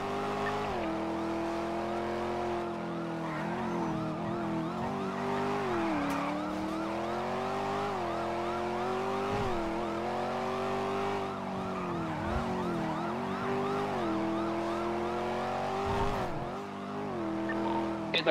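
Wailing police sirens sound continuously during a car chase in a video game, steady and loud with rising and falling tones layered over engine noise, with no break in the siren throughout.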